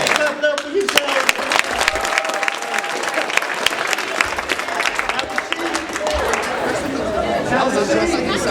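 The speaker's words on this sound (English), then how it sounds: "Clap it up for yourself." Audience applauding at a speaking event, dense clapping with cheers and chatter filling the room, a voice talking over the crowd.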